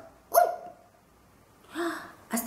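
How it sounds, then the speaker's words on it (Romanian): A dog gives a short, joyful bark, two or three quick isolated yelps separated by pauses in an otherwise quiet setting. "a acceptat printr-un lătrat scurt de bucurie"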